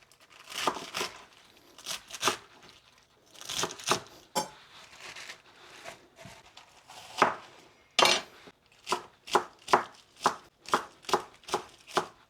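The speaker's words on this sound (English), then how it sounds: "So we're done chopping the cabbage." A knife chops through cabbage in quick, crisp strokes against a board, some in clusters and some evenly spaced, close up with no talking.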